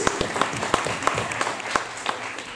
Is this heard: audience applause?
yes